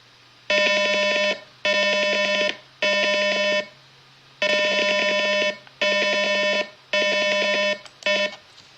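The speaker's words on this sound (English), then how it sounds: "Now obviously you could tell that the buzzer stayed on for a longer period of time." A loud Arduino piezo buzzer sounds in seven steady beeps, each held for about a second, with short silent gaps between them.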